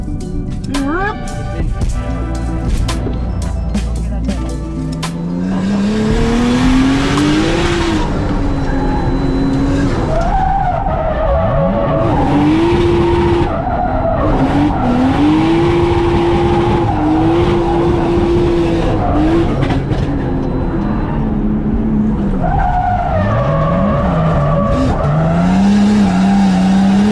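A Nissan Skyline, restored after sitting abandoned for 15 years, drifting with loud sustained tire squeal over a steady engine roar, the squeal rising and falling in long wavering sweeps throughout, close and continuous, with voices talking over it.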